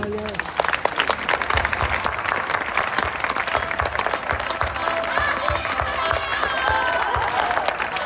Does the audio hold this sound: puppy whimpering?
no